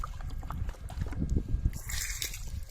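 A bucket is rinsed with water beside a pool being treated with shock: close, irregular sloshes and splashes with brief trickling between them.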